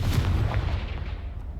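A Confringo blasting spell in the Hogwarts Legacy video game lets off a deep booming blast that fades out over a second or so, heard alone with no talk.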